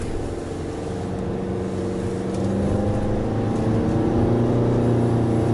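Steady, loud engine drone and road rumble from a facelifted 2022 Nissan Serena on a test drive, building slightly as it goes, with no talk over it.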